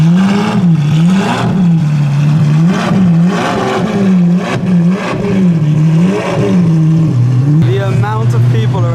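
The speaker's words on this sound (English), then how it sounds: "I can hear something loud. Here it is. This is the Apollo IE." An Apollo IE supercar's engine roars loud and close with a rhythmic rising-and-falling drone, like repeated revs, and a crowd murmurs around it.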